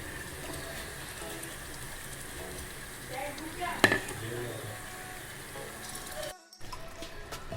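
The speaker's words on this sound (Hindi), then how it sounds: "देखिए तमाम मसाले हमने डाल दिए हैं और अब इसे हम भून रहे हैं" Spiced minced keema sizzles and crackles steadily in a pan as it is browned, a continuous fine frying hiss with occasional stirring scrapes; a brief louder clatter midway and a short drop near the end.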